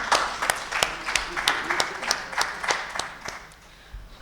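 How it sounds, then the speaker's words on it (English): Applause at a CSR summit book launch, an audience clapping with distinct, fairly sparse claps for several seconds before it fades. "Can we have a huge round of applause for the same?"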